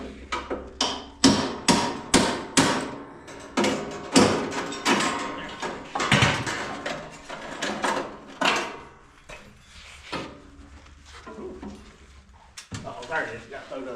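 Saw blade teeth being hammered on a sawmill, a series of sharp metallic blows struck in quick bursts, loud and close, with pauses and a voice talking in between.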